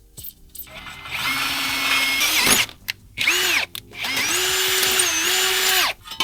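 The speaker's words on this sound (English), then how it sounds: "I've already marked them, so now I just have to drill them out" Power drill boring holes for ATV bracket mounts on a cross beam, in three bursts: a long steady whine, a short spin, then another sustained run, each with clear starts and stops.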